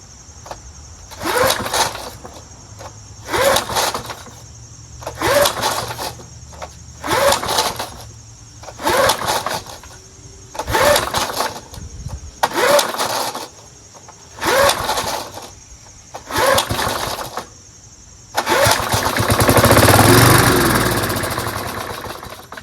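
Snapper Hi-Vac lawn mower engine being pull-started repeatedly: about nine rhythmic cranking bursts, each a short sputtering pull with gaps between, then the engine catches and runs loudly and steadily at the end, close up.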